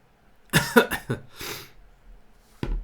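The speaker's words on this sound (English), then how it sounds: "This cough, this is getting worse for me, this cold." A man's cold-worsened cough, two or three close, harsh bursts in quick succession followed by a short breathy sound and one more brief cough at the end.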